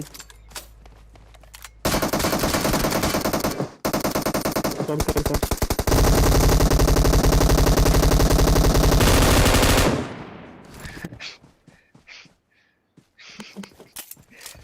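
Loud, sustained bursts of rapid automatic M249 machine gun fire in PUBG Mobile, several long volleys in a row, then scattered single shots and quieter game noises.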